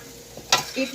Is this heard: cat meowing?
no